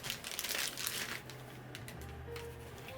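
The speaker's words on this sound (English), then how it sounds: "Now let's unbox the Joy-Con." Nintendo Switch 2 Joy-Con packaging is unboxed up close, with crinkling and rustling plastic and cardboard in quick bursts that fade to quieter handling, no talking.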